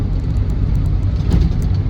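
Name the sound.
Land Rover Defender 90 TDCi braking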